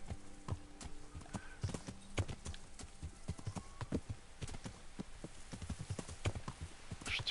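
Horse hooves clip-clop in a steady walking rhythm in the medieval video game Kingdom Come, quiet and even, with a faint whinny-like tone near the end.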